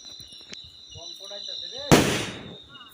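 A single firecracker goes off for Kali Puja with a sharp, loud bang that hisses and crackles away, while a voice talks just before it.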